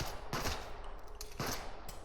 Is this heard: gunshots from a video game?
yes